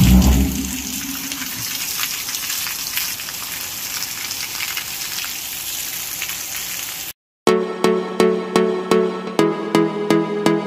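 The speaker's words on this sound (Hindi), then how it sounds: "यहाँ पे कितनी झूम झूम के बारिश हो रही है" Heavy rain pours steadily in a village with a dense hiss of water; partway through it cuts off and a different rhythmic series of sharp taps follows.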